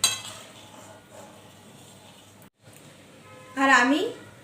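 A spoon clinks against a pot while moong bora curry is stirred over a low simmer: a brief, bright metallic scrape and clatter near the end, after quiet kitchen background.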